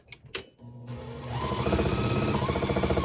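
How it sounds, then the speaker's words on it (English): A domestic sewing machine stitching fabric strips for a string-pieced quilt block, starting after a couple of handling clicks, then running in a fast, steady mechanical whir with rapid needle knocks, close and loud. "sewed it across"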